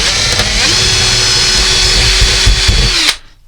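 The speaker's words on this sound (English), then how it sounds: "I'm going to drill a smaller hole there" A power drill bores a small hole in a model railway layout, its motor whining loudly and steadily for about three seconds before cutting off abruptly.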